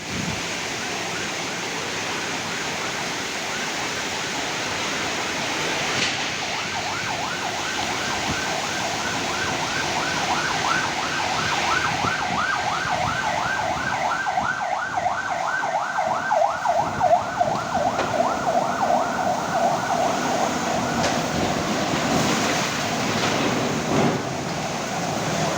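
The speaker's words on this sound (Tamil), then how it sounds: "திருப்பூரில் சரியான மழை, புயல் காற்று அடிக்குது பாருங்கள்" Strong storm wind and heavy rain in Tiruppur, with howling, whistling gusts rising and falling over a constant broad rushing roar that builds and stays loud for the whole stretch.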